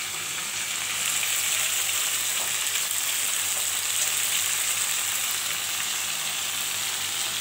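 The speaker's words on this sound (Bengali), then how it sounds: "ভাজা হচ্ছে বোয়াল মাছের মাথা" A boal fish head sizzles and fries steadily in a pan, a close, continuous crackling hiss with no voices.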